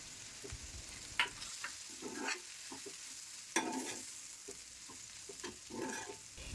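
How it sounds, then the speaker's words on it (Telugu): Grated coconut is stirred into a frying ivy gourd dish, a soft sizzle running underneath while a spatula scrapes and taps the pan in irregular strokes, quiet and close. "ఇప్పుడు అందులోకి పక్కన పెట్టుకున్న కొబ్బరి తురుము వేసి బాగా కలుపుతూ ఉండాలి"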